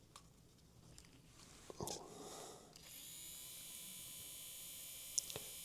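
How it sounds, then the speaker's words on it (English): The motor of a Bachmann Class 24 model locomotive, loose from its bogies, spins up under power with a thin, steady high-pitched whir after a few clicks and handling noises, quiet and close. "So that motor's spinning fine."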